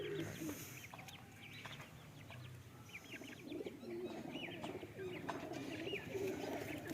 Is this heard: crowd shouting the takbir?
no